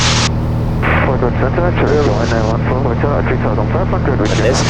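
A small plane in flight, its steady engine drone loud and continuous throughout, with people talking close by over it.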